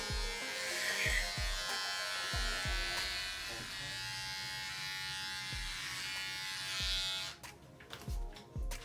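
An electric shaver buzzes continuously up close while shaving a head, with repeated soft thumps underneath and a brief pause near the end.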